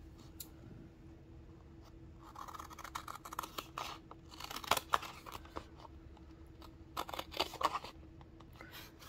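Scissors trimming paper strips for a book-page bellyband or bookmark: faint, close snips and crisp scraping cuts in scattered short bursts over a quiet background, with no talking.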